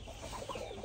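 Black gamefowl rooster, one quarter Ayam Cemani and three quarters gray, gives a few short, close clucking calls in a steady stretch of yard noise with no talk.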